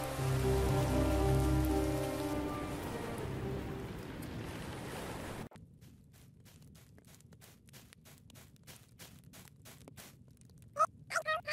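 Rain falls in the video game Grimshire, a steady close hiss that fades and drops to a quieter patter with faint ticking drips, ending in a few brief sharp sounds.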